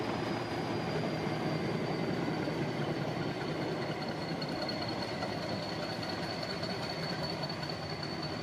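A large locomotive hauling a short meter gauge train of two or three coaches in India gives a steady, loud engine drone and rumble with a faint high whine running throughout, and no talking.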